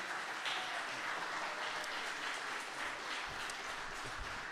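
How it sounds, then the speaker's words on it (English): An audience at a museum groundbreaking ceremony claps steadily, producing a dense, even wash of applause that lasts throughout at moderate volume. "can you all keep clapping for Yannette?"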